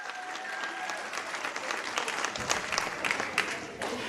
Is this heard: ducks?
no